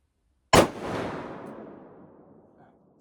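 A single .450 Bushmaster rifle shot cracks loudly and close at an outdoor shooting range, followed by a long rumbling echo that fades over a few seconds.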